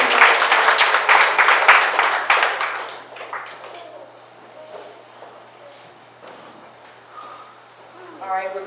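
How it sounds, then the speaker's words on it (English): A church congregation claps hands loudly in a dense burst of applause for the first few seconds, then fades to scattered claps, with people talking. "Clap your hands for Jesus."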